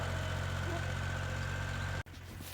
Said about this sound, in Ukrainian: поки батя на тракторі оре